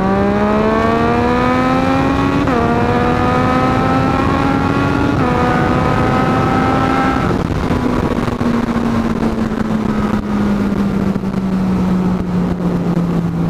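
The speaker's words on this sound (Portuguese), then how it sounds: "Aqui eu consigo trocar de marcha, nossa, tipo, do jeito mais rápido possível" Motorcycle with a remap and quickshifter accelerating hard on a Brazilian road, engine note climbing in loud rising sweeps cut by quick upshifts, then settling into a steady, slowly falling drone, with wind roar throughout.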